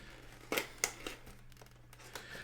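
Plastic packaging for a Nyko Dual Shock 4 battery pack being cut open with scissors: two sharp snips close together, then softer crinkling and scraping of the plastic, close and fairly quiet.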